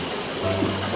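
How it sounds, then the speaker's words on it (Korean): A mountain valley stream flows in a steady, soft wash of water, faint and continuous, with a brief low tone partway through. "계곡에 귀 기울여 보세요. 아름다운 물소리 들리시죠?"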